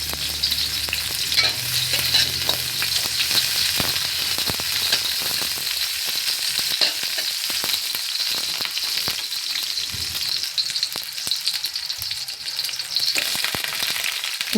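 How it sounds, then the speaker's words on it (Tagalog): Onions sautéing in hot oil in a pan make a continuous bright sizzle and crackle, with occasional stirring scrapes, close and steady throughout with no voices. "Maglalagay tayo ng mantika guys. And then, magigisa tayo ng sibuyas."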